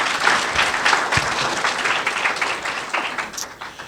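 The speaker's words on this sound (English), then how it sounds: "let's give yourselves another round of applause" An award ceremony audience at the Presidential Environmental Education Awards gives steady, dense applause from many hands, filling the room evenly at moderate volume with no break.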